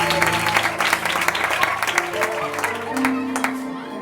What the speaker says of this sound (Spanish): Un fuerte aplauso para el